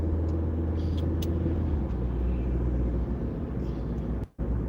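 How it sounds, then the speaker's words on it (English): A car on the road accelerates up to speed, its engine and road rumble a steady, loud, low drone heard from inside the cabin, ending with a brief sharp dip. "Now we're going to start accelerating up to speed, making sure our car is running properly."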